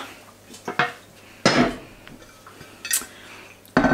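A large cooking pot comes out of a kitchen cupboard with a series of loud, close metallic clanks and bangs, separated by short quiet gaps.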